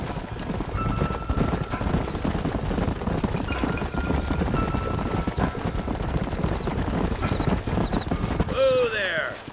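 Horse hooves clip-clop in a quick, steady rhythm close by over a rough ground rumble, with a brief whinny-like sound near the end, in the video game Red Dead Redemption.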